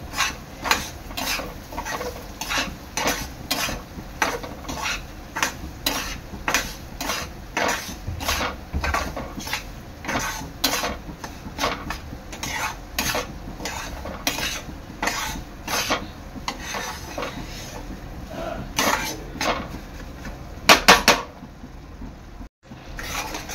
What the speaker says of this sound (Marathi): आता तुपामध्ये मंद आचेवर शिरा आपला चांगला भाजून घ्यायचा आहे